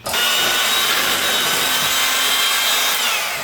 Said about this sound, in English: I'm just going to go in my hand mixer, whisk it.